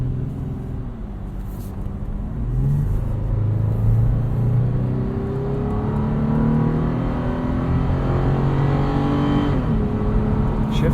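A 2017 Toyota 4Runner TRD Off-Road driven in sport mode, heard from inside the cabin: a deep engine drone climbs steadily in pitch as it accelerates, drops back at a shift, then climbs again under continuous road rumble.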